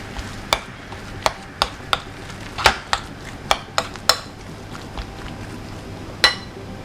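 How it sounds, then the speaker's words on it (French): A spoon or whisk strikes a bowl again and again while sweet potato muffin batter with spices is mixed, giving sharp, irregular clinks and taps over a quiet background. "On mélange."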